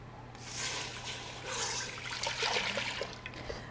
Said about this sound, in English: I'm going to add my milk.